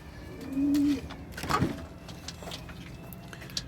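Young pigeons, including Arab-type squabs, give a soft low coo near the start in a loft, followed by faint rustling and scattered bird calls.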